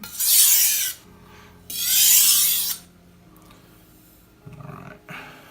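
A knife is drawn across a wet sharpening stone in two long, loud rasping strokes, then a couple of shorter, softer scrapes with quiet gaps between.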